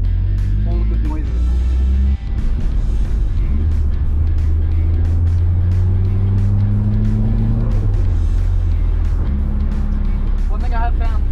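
A Nissan S13 driven on the road, its engine droning and rising in pitch through gears with shifts between, heard loud from inside the car under a talking voice.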